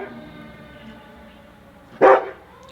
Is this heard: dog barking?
yes